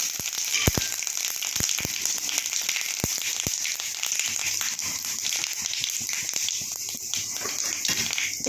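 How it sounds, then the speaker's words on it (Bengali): Panch phoron and dried red chillies sizzle steadily in hot oil, with sharp crackles and pops scattered through a continuous close hiss. "এবার আমি তেলের মধ্যে পাঁচ ফোড়ন আর শুকনো লঙ্কা দিলাম"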